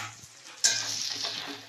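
Mixed vegetables frying in a pan for veg dal, heard after a quiet start as a sudden burst of sizzling when the pan is stirred, then a steady crackle with light scraping, close and without talk.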